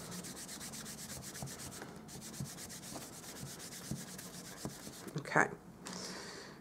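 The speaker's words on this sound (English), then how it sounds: "I had better grab my embossing buddy and I'm just going to quickly rub that over the whole image" An embossing buddy is rubbed over a stamped card image in quick, soft, repetitive strokes, close and quiet, with a low murmur in the background.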